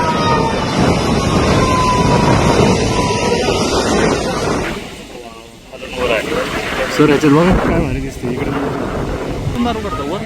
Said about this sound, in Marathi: दरम्यान आपण हा सायरनचा आवाज ऐकला असेल. नदीकाठच्या विविध ठिकाणी आता सायरन वाजवले जातात